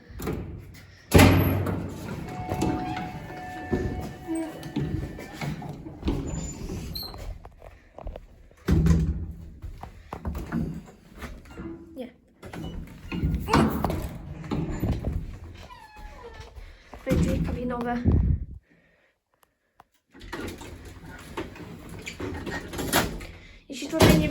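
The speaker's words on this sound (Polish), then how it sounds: "No, drzwi kabinowe." Elevator cabin doors in a residential block slide and thud shut, with several knocks and bangs spread through a long stretch while someone talks over much of it, plus a short quiet gap near the end.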